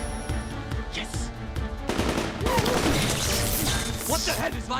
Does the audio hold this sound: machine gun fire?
yes